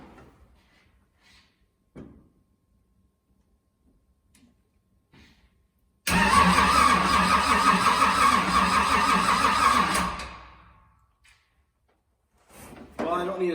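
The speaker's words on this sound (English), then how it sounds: "So I'm gonna try and start her up." A 1967 Chevrolet Chevelle engine cranks and fires, roaring loudly and close for about four seconds before dying away, with quiet handling noises beforehand and a voice speaking at the end.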